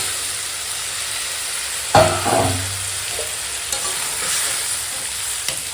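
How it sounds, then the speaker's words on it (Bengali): Pieces of pre-fried fish go into a simmering Bengali curry in a pan, a sharp burst of sizzling and a scrape of stirring right at the moment of adding, then a steady soft frying hiss that carries on alone. "এখন দিয়ে দেবো এই ভেজে রাখা মাছ"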